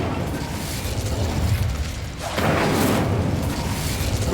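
Incendio fire spell cast in Hogwarts Legacy at a witch's sarcophagus, a sudden whooshing burst that flares into a roaring crackle of flame, loud and close over ambient game noise.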